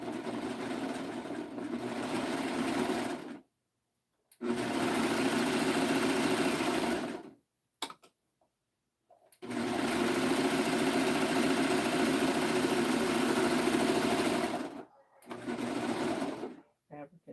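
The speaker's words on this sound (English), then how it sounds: "I can stitch them together." A sewing machine stitching fabric pocket pieces together runs in three long steady bursts of fast whirring hum, close and loud, separated by short silent pauses.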